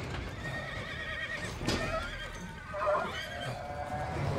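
A horse neighs in a film scene, a whinny rising over a steady background bed of sound, with hoof clip-clop hinted in the mix.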